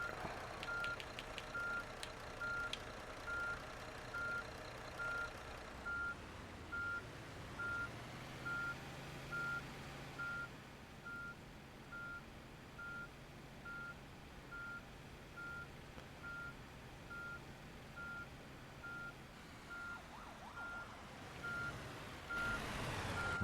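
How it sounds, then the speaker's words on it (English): A coach in a bus driving simulator gives steady, evenly spaced reversing beeps throughout, over a low engine hum with brief air-brake hisses, all fairly quiet. "It's behind us, so we're going to have to do some reversing."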